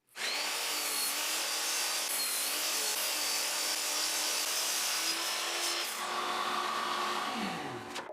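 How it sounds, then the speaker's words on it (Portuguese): A power saw cuts through rough wooden boards in a single continuous loud whine lasting several seconds, with the pitch shifting near the end as the blade spins down. "O primeiro passo foi marcar aproximadamente onde elas precisavam ser cortadas e depois cortá-las usando uma serra de esquadria"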